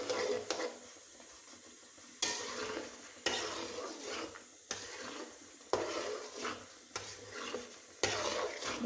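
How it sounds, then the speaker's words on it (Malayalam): Jackfruit stirred in ghee in a pan for a Kerala dried jackfruit dish, a spoon scraping in repeated sweeping strokes about once a second over a soft sizzle. "ഇളക്കണം."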